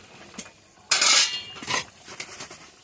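Pieces of fish drop into a curry simmering with potatoes in a pan, giving a sudden loud splash and sizzle. Softer clinks and stirring follow nearby, with no talk.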